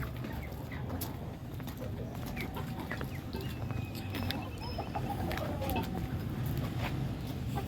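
Sick, sluggish rooster that has been in a fight clucks softly in a rooftop setting, with scattered short calls over steady background noise and someone speaking nearby.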